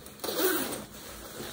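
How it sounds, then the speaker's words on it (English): A single short zipper pull on a surf poncho, close and fairly quiet, rasping for about a second with no voices. "just zipper up if it's windy"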